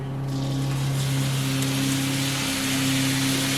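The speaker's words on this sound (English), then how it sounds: "I just sprinkle in a little soy," Soy sauce hitting hot fried rice in a pan, a loud, steady sizzling crackle like rain on a surface over a low cooking hum, continuous with no talking.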